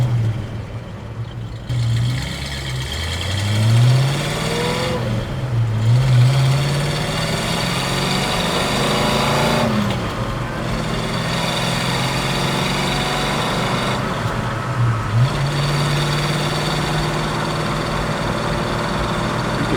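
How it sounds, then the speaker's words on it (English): A 4-speed Ford Boss 302 V8 with a 3.90 rear gear revs hard while driving, engine note rising and falling through several loud pulls over a steady running drone, heard from inside the car. "This car's rev hard, quick, and great."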